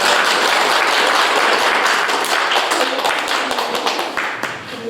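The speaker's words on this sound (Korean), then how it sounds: "오카리나 연주실 우리 유인숙 선생님께 박수 보내주세요" Loud audience applause follows an ocarina performance at a Buddhist college gathering at Jogyesa Temple, dense clapping that starts at full strength and slowly thins toward the end.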